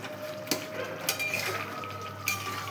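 Curry with snails (googli), potato, aubergine and spinach being stirred in a pot after simmering, with a few sharp clinks of utensil against pot over a low bubbling background.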